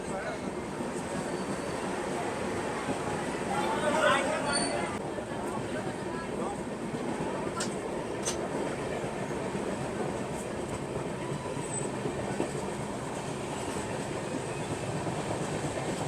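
The Indore Patna Express runs nonstop between Bina and Jhansi, heard from inside as a steady, loud rumble and rattle of the carriage with a few faint clanks and a brief swell, no voices audible.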